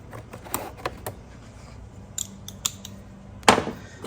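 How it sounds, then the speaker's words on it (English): A hose clamp on the air filter housing of a 2011 Volvo XC70 3.2L is loosened with a 7mm socket or flathead, giving several sharp metallic clicks and ticks, ending in a louder scraping release. "release this hose clamp here with the 7mm or flathead."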